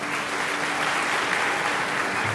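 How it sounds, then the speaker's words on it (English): Applause fills a church, a dense, steady patter of many hands clapping at once, sustained and fairly loud throughout with no voices over it. "the church erupts in applause"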